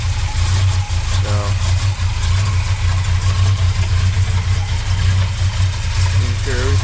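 K10 truck engine idling after a cold start, a loud steady low rumble with a faint squeal at moments, heard close and continuous throughout.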